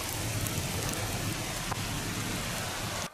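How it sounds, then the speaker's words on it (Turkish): Heavy rain pours during flooding in Çanakkale, Turkey, a dense, loud, steady downpour with faint scattered drops and a brief knock before it cuts off abruptly at the end. "Kuvvetli yağış, cadde ve sokakları kısa sürede göle çevirdi."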